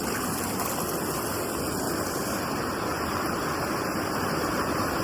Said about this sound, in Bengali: এইটা হচ্ছে আমাদের ভিউ, প্রচন্ড স্রোত